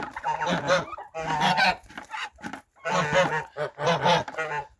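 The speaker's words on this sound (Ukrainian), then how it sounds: "Що, гусики?" Domestic geese honk close by in several loud bursts separated by short pauses, a small flock calling together on a farm.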